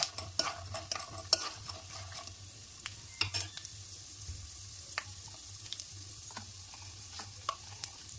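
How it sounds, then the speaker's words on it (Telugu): Urad dal and peanuts fry in a pan with a soft, steady sizzle, broken by scattered sharp pops and crackles throughout, close and fairly quiet with no talking. "ఇప్పుడు మినపప్పు, పల్లీలు అవి కొంచెం మంచిగా ఫ్రై కావాలి"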